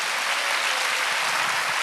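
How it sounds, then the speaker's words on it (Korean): A church congregation at a Wednesday worship service applauds loudly and steadily, a dense, even wash of clapping throughout with no talk. "깨달은 사람만 박수 한번 크게 쳐보시다"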